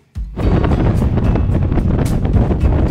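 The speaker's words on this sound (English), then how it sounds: "It is windy up here." Strong wind roars across the microphone while cycling high in the Sierra Nevada mountains, starting abruptly and holding a loud, steady buffeting rumble throughout.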